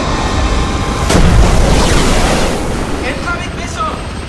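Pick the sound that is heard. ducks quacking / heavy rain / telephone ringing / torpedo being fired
torpedo being fired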